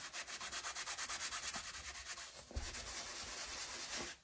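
Transfers being rubbed onto a small laundry sign from a dollar store, quick rhythmic scratchy rubbing strokes close up, pausing briefly before continuing more steadily.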